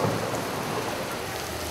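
Heavy rain and hail pound down steadily during a thunderstorm, a dense, continuous roar of drumming impacts with no let-up, close and loud throughout.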